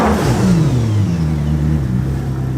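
Koenigsegg Jesko engine revving steadily near the microphone, a loud continuous drone whose pitch dips and settles at a steady idle-like note, with no talk.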